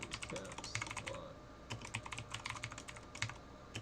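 Steady typing on a computer keyboard while binding caps lock to control in Emacs: a dense run of quick, faint key clicks at an uneven rhythm, close and alone with no talk.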